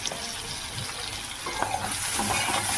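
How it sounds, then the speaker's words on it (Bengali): Boiled potato and carrot frying lightly with salt and turmeric in a pan, giving a steady, close hiss of sizzling oil that grows a little louder halfway through, with a few faint stirring clicks. "তারপর আবার নেড়ে নেবো, হালকা করে ভাজতে থাকবো"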